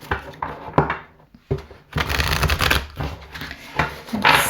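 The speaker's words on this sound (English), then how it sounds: "Let's get some clarity with the Oracle cards." Oracle cards are shuffled in close, crisp riffling bursts separated by short pauses, loud and alone without talking.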